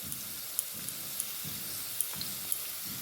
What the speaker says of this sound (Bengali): বুন্দিগুলোকে ভেজে নেব।